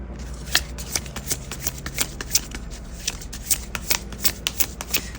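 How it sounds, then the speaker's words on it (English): Tarot cards being shuffled up close, a steady run of crisp riffling snaps and flutters repeating for several seconds. "Excuse me while I shuffle."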